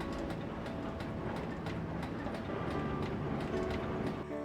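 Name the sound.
diesel locomotive engine roaring while climbing a hill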